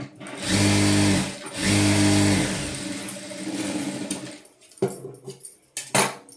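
A sewing machine stitches the front part of a lehenga blouse in two loud, steady runs of about a second each, then lighter handling clicks and rustles of fabric close by.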